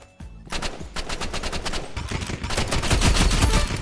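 Rapid paint gun fire in Roblox Rivals, a fast string of sharp, punchy shots in steady rhythm, close and loud, continuing for several seconds without pause.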